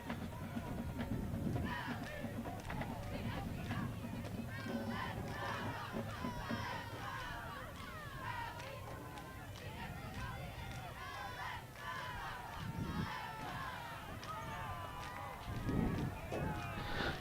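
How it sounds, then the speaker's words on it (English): Crowd noise at a high school football game between Manor and Hutto, a steady roar of voices and shouting that holds throughout with swells near the end, while cheerleaders work the stands. "Cheerleaders getting the crowd into it here."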